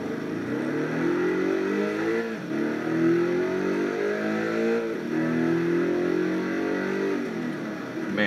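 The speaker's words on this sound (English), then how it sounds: "Man, what an amazing engine sound." The engine of an Alfa Romeo 8C Competizione in Test Drive Unlimited 2 revs loudly and steadily, rising and falling in several sweeping pulls with no talk over it.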